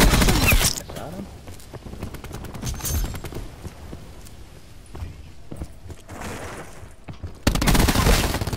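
SAUG 9mm submachine gun fire in the Black Ops 4 video game, rapid bursts of automatic shots at close range, with loud stretches at the start and end, moderate fire between, and voices talking over it.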